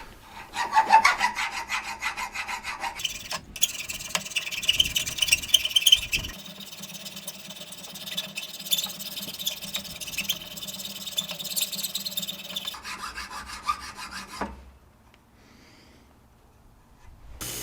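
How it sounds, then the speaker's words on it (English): Hand file rasping across metal while roughly shaping a small wood-splitting tool for camping, a steady run of scratchy back-and-forth strokes close up for about fourteen seconds, then quiet. "From there, I used a file and roughly shaped it."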